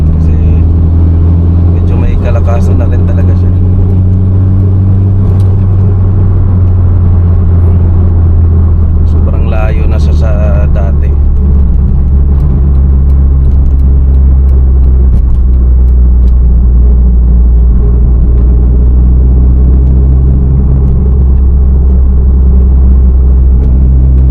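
A Honda City cruises along the NLEX expressway with a steady, heavy low rumble of engine and road noise from inside the cabin. A person talks over it at times.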